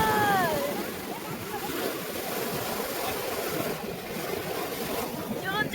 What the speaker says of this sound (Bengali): ঢেউ জল,